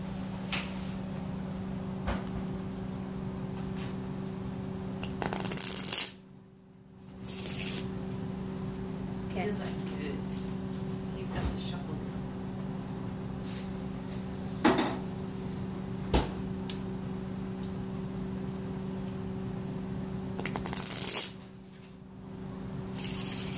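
Deck of playing cards shuffled during a close-up card trick, steady riffling and rustling over a constant background hum, with two brief sharp card bursts standing out.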